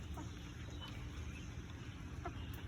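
Chickens kept as a backyard flock give soft, low clucks, close but quiet, over a steady background hum, with no clear crow standing out.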